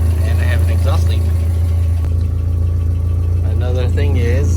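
A 1976 Toyota Celica engine idles steadily and loudly close by, its uneven rumble from an exhaust leak, with someone talking over it at the start and end.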